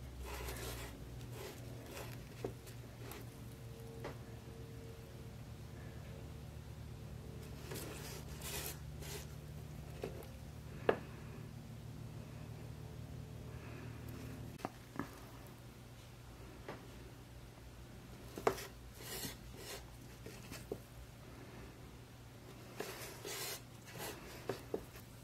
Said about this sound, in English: go ahead and fine line